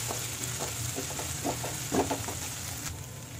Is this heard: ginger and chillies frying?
yes